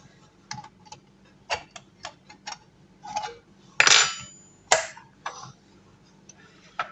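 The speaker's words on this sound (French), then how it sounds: "Et je vais ouvrir les boîtes de thon." Cans of tuna in oil being opened in a home kitchen: a run of light clicks and taps, then a sharp metallic scrape and rip of the lid, close and fairly quiet.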